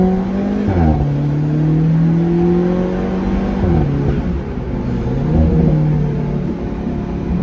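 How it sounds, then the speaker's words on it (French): An Alfa Romeo 4C sports car accelerates hard with its turbocharger whistling, a loud rumbling engine rising and dipping through gear changes, close and dominant, with no voices. "C'est un plaisir de ouf d'entendre le turbo siffler comme ça."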